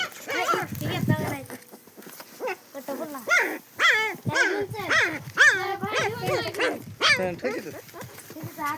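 Several puppies yip, whine and bark in high-pitched bursts, close by, with overlapping whimpers continuing throughout.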